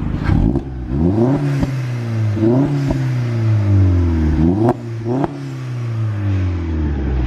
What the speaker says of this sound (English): You're gonna give it a rev for the tubers.